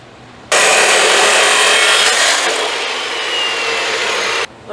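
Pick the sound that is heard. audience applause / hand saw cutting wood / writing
hand saw cutting wood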